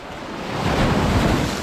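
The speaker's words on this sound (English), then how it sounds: "These waves are giving me sass." Ocean surf at a beach in El Nido, Palawan, Philippines, washes in as a broad, swelling rush with wind buffeting the microphone, building louder through the middle, near and with no voices.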